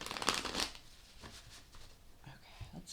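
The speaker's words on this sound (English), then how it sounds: "I'm going to do a couple more shuffles." A quick riffle of cards, a papery flutter and snap, followed by softer handling and light taps of a deck.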